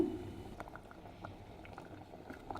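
Soft bubbling and popping of a lentil and coconut stew simmering in a pot, with small irregular bursts over a low, steady background.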